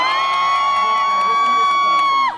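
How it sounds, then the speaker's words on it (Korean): Crowd at a Cheongju University festival cheers: a loud, sustained high-pitched shout rings over scattered clapping and crowd noise, then drops off abruptly at the end. "그럼 박수하고 소리 한번 질러주셔야죠."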